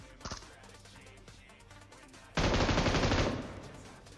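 Gunfire in the mobile battle royale game PUBG Mobile: a brief early shot, then after a pause a loud, sustained burst of rapid automatic fire lasting about a second before fading, with no talking.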